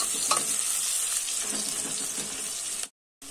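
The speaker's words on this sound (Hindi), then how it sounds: "प्याज को अच्छी तरह से भून लेंगे।" Onions fry in a pan for street-style veg chowmein, a loud, steady close-up sizzle that runs unbroken for nearly three seconds and then cuts off abruptly.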